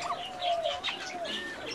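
An Archangel pigeon gives soft, close cooing calls with a few brief chirpy notes over about two seconds, with no voices.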